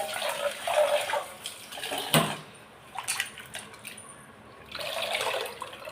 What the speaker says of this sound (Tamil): நமக்கு எவ்வளோ குழம்பு தேவையோ அவ்வளோ குழம்புக்கு நான் புளியை நல்லா கரைச்சி விட்டுக்கிறேன்